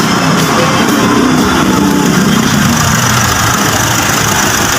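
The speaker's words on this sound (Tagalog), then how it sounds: "Papatayin na muna natin ang makina para ma-check natin yung langis." A Nissan NV350 van's engine idles steadily at close range during a change-oil check-up, a loud continuous low rumble with constant vibration and no voices.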